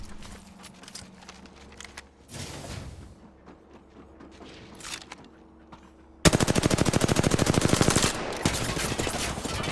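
Video game gunfire: scattered shots and mechanical clatter early, then a dense, loud burst of rapid automatic fire rattling continuously through the last few seconds, close and heavy.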